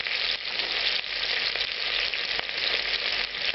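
About thirty grams of oil hits a very hot, smoking pan and crackles hard. A loud, constant sizzle fills the whole stretch without a break.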